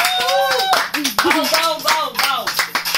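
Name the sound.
audience clapping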